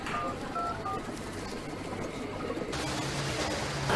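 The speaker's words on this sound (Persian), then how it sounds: "نه الان خودم گوشیشو میگیرم" A phone keypad is dialed in a home, and several short, separate beeps are heard at the start over a low background hum before a louder noisy stretch follows.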